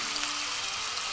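Chicken thigh searing skin-side down in a pan, a constant soft sizzle at low volume with a faint steady hum underneath.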